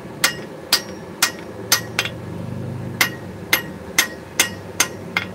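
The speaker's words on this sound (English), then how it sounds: "See? Trying to forge in somewhat decent lines." A hammer forges hot metal, likely on an anvil. About a dozen sharp, ringing blows land in a steady, slightly uneven rhythm, with a low hum underneath in the middle and no speech.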